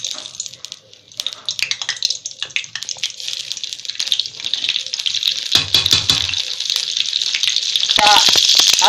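Oil and a little butter sizzling in a hot kadai at the start of a paneer masala, a bright continuous hiss that swells and grows louder toward the end, with some voice over it.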